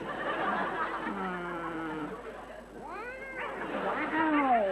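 A cat meows repeatedly in a domestic setting, several drawn-out rising and falling calls at moderate volume, the later ones louder and more insistent.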